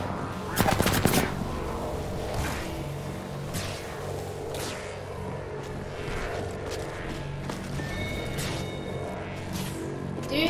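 Gunfire in Apex Legends, a dense burst of rapid shots early on followed by scattered single shots and short volleys at mid distance.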